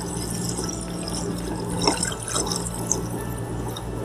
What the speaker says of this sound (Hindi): ये जो 7 कप मैंने पानी लिए है ये इसमें ऐड कर देंगे